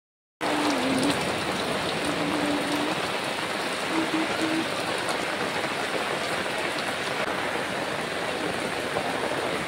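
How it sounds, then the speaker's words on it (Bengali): Steady rain pours down outdoors around a house and garden, a dense continuous hiss of drops on surfaces that stays even and fairly loud throughout with no voices. "দেখো দেখো দেখো বৃষ্টির মধ্যে ঘরে আসা বসে রয়েছে আর কি"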